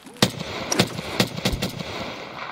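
Suppressed gunfire rings out in a tactical shooter video game: a quick series of about five sharp, muffled shots at an uneven pace, close and fairly loud, with no talking.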